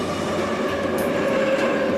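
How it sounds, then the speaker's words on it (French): Moscow metro trains run just behind a door, producing a loud continuous rumbling rail roar with a steady whining tone and faint wheel clatter, with no talk. "C'est les rames qui passent derrière."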